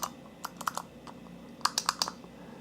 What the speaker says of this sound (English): Paradise Arcade also gives you a choice of what micro switch to have on the button